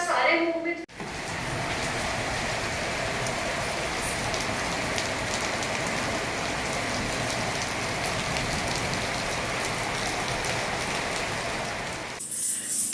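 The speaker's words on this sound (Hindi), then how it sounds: "अभी ना यहाँ पे इतनी बारिश हो रही है, कल परसों से बहुत ज़्यादा बारिश हो रही है" Heavy rain pours steadily outside after a kathak dance class, a dense continuous hiss of drops on surfaces holding nearly level for the whole stretch, with no voices over it.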